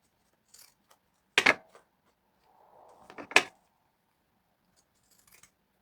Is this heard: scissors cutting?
yes